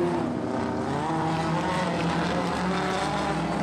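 Vintage speedcar with an Esslinger Ford Pinto petrol engine and three-speed gearbox at Archerfield Speedway, a continuous loud engine drone running throughout with no pauses.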